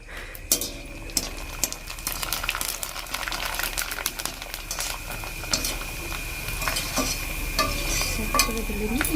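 Potato chips (Badminton Chips) fry in very hot oil with a continuous dense sizzle and bubbling, punctuated by frequent sharp clinks and scrapes of a utensil stirring against the pan, close and steady throughout.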